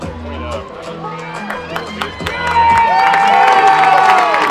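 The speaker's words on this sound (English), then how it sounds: "A big round of applause, standing ovation from the Pacelli faithful" Pacelli fans in the stands at a WIAA Division 4 state semifinal softball game break into cheering and applause that swells toward a sustained roar, with a commentator talking over the crowd noise.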